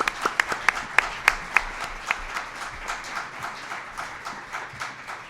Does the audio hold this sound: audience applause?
yes